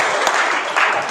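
Applause breaks out briefly at a school board meeting in a public hall, a dense burst of clapping from the audience, moderately loud and over within about a second.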